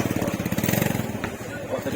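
A motorcycle engine runs with a steady, rapid throbbing pulse close by, while someone talks over it.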